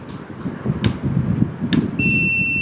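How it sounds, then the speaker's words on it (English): A steady electronic buzzer tone from an Arduino infrared sensor circuit starts suddenly and holds, following a couple of short clicks and low handling noise. "Arduino sends signal to the buzzer, sir"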